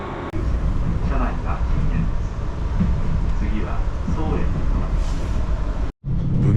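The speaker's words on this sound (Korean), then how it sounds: "잠시 기다리자 전철처럼 생긴 기차가 부드럽게 플랫폼으로 들어왔습니다." A JR train glides into a platform at Sapporo Station on a cold winter day, a steady broadband rumble and hiss filling the scene with a murmur of voices underneath, before breaking off abruptly near the end.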